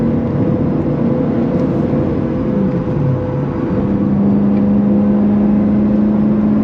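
BMW E92 M3 on Fortune Auto 510 coilovers driving on a track, a steady, loud engine drone with a droning tone that shifts slightly in pitch, no talking.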